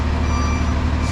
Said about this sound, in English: And that truck is loud, really loud.